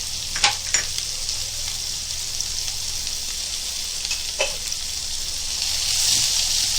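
Garlic and onion frying in a pan for a Konkani-style turai (ridge gourd) dish, a steady loud sizzle with a few sharp stirring clicks and scrapes, no voices.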